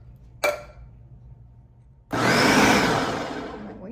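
A small food processor, filled to capacity with fire-roasted canned diced tomatoes for homemade salsa, gives a brief click, falls quiet, then whirs loudly as it chops for about two seconds before winding down.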